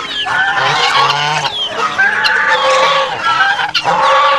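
Loud, busy squawking and honking of geese and chickens together, a continuous clamor of overlapping calls and clucks close by.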